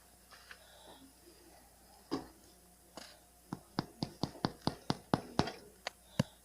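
Toaster-oven-baked bread loaf tapped with fingers to check for a hollow sound: a steady run of about a dozen light, close thumps after a few scattered handling noises, quiet overall.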